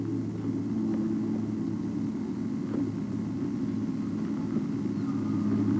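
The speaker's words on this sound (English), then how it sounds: "Now I hear an airplane." A tour plane passes overhead as a steady, low droning rumble that holds through the whole stretch, moderately loud and unbroken, with no voices.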